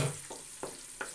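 Chopped onion fries in oil in a kadhai with a soft, steady sizzle, broken by three faint scraping stirs, quiet and close.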